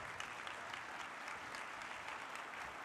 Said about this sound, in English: Ladies and gentlemen, can we have a big round of applause for Mr. Craig Maginness?